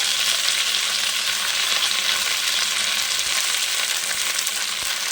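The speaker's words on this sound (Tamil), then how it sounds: "ஆயில் வந்து லைட்டாக சூடு ஏறினதுக்கப்புறமா நாம் எடுத்து வச்சுருக்கிற புளிச்சக்கீரையை சேர்த்துக்கலாம்" Gongura (sorrel) leaves fry in hot oil in a kadai, giving a loud, steady, close sizzle that continues without a break and with no talking.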